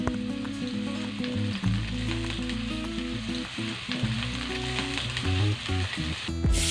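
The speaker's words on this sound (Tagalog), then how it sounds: "And igisa na natin yung bawang." Garlic and onion sauté in cooking oil for homemade pancit canton. A loud, steady sizzle fills the whole stretch, broken by occasional stirring knocks, with a faint tonal hum in the background.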